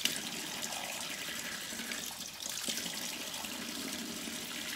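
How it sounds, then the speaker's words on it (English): Earrings being scrubbed under a running faucet, with a steady hiss of flowing water and faint scrubbing close by, continuous throughout. "I'm going to give it a good scrubbing."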